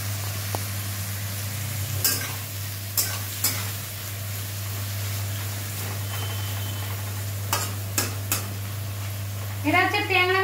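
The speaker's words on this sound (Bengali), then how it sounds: "মশলাটা করা আছে, এটা ভাজা ভাজা হবে আগে।" Spice paste of Kashmiri chilli, black pepper, coriander and cumin powders frying in a pan for a tangra fish dish, a soft sizzle under a steady hum with several sharp utensil scrapes and clanks, then a brief bubbling burst near the end.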